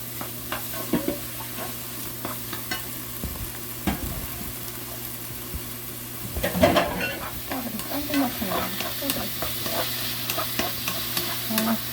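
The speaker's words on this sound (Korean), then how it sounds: "버섯이 들기름하고 볶으니까" Mushrooms stir-frying in perilla oil, a steady soft sizzle with scraping stirs throughout, picking up briefly in the middle, with no talking.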